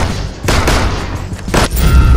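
Rapid gunfire in the Six Guns video game, a couple of loud booming bursts of shots over a busy game soundscape, heavy and close.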